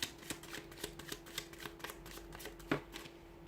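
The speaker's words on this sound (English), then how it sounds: "let's give the cards a shuffle" Tarot cards are shuffled by hand at close range, giving a steady run of soft riffling flutters and light taps, with one sharper snap near the end.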